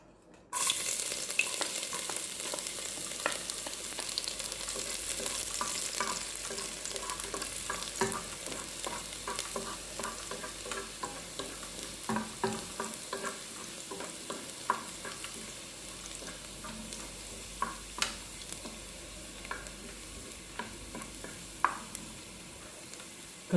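Garlic frying in oil for a ginataang hipon dish makes a steady close sizzle that fades gradually, with scattered stirring clicks and light scrapes throughout.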